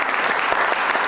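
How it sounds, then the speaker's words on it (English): Applause from a church congregation, a steady wash of many hands clapping at moderate volume throughout the short burst, with no voices standing out. "Why don't you give yourselves a round of applause?"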